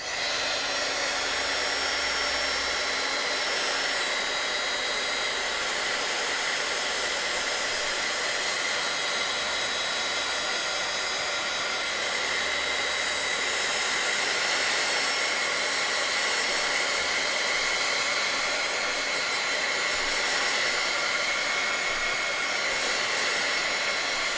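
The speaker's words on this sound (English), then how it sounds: "So I'm going to heat that up to dry it." A heat tool blows steadily and loudly for the whole stretch, drying a coat of paint on a steampunk craft tag, a constant broadband whoosh with no talking.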